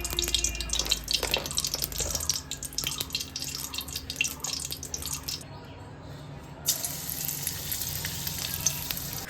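Tempering spices sizzle in hot oil for a vegetarian jackfruit biryani made without onion or garlic, a steady close frying hiss with faint clinks and a brief drop in the middle.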